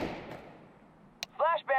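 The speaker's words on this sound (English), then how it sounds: "Throwing flashbang." A flashbang grenade goes off in Counter Strike 2, a heavy blast already fading into a long decaying rumble, then a sharp click and a short burst of voice lines.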